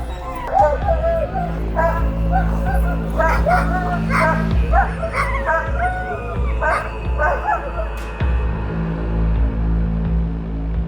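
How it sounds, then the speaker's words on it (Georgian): Several husky sled dogs bark and yip excitedly close by in wintry Lapland, overlapping high-pitched yelps and whines over a steady low rumble. "ჰასკის ტიპის ძაღლები სპეციალურად შეიჭრა ასეთი პირობებისთვის"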